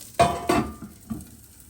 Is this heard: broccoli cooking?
yes